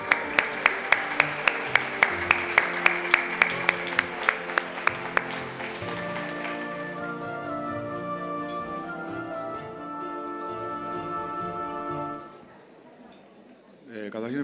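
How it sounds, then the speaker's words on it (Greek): At a healthcare business awards ceremony, audience clapping comes as a loud, evenly spaced beat of claps for about five seconds, then gives way to tonal music that carries on and fades near the end. "Ένα ακόμη χειροκρότημα, γιατί είναι και πολύ, όχι τίποτα άλλο."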